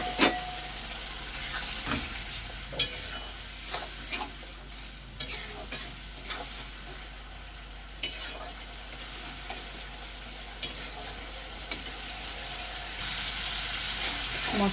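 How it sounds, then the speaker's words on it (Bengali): Masala spice paste for koi fish curry sautés in a pan, steady sizzling under repeated sharp scrapes and knocks of a spatula at an irregular rhythm, close and continuous. "দিয়ে মশলাটা আরেকটু ভালো করে কষে নেব।"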